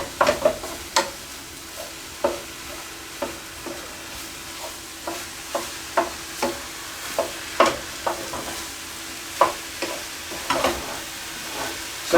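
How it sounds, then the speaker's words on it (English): Spoon stirring fajita seasoning into browned ground venison in a hot pan, with a steady sizzle under regular scraping strokes roughly every second, close and moderately loud. "you can sprinkle in the fajita seasoning and mix that in there"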